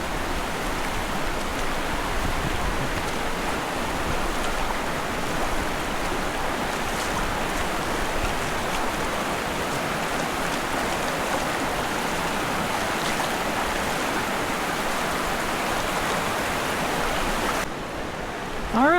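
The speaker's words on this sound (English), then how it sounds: "We're entering the creek, nice and shallow." Shallow creek water flowing a short way upstream of the lower falls: a steady, close, broadband rush that holds unchanged for a long stretch without talk.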